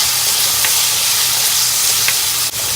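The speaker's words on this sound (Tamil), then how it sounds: "பல்லு ஃபுல்லாக கீறி போடணும்னால கொஞ்சம் தேங்காய் வேகணும், அதனால் முன்னாடியே எண்ணெயில் போட்டு நல்லா வணக்கிக்கலாங்க" Grated coconut and onion frying in oil for Erode Pallipalayam chicken, a loud, steady close sizzle broken by occasional stirring scrapes.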